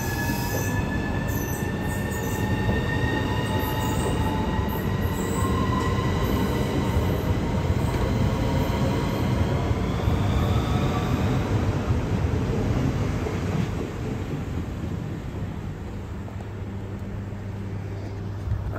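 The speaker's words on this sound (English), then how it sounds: "Apparently that's the train back to London" A high-speed train at the Ashford International platform runs with a steady, loud rumble under bright, whining wheel squeal and tonal hums. After about fourteen seconds the noise drops slightly as it moves off, and nobody talks.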